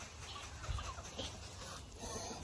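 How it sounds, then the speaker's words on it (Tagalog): Farm ducks clucking and quacking in a noisy chorus over a constant outdoor background, fairly close and moderately quiet, with no talk. "Puro itik."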